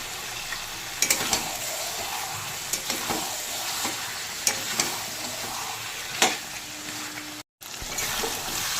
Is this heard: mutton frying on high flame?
yes